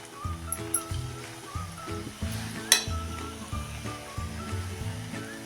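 Chakli (butter chakli) frying in very hot oil, a steady close sizzle running throughout beneath louder background music, with a brief sharper crackle midway.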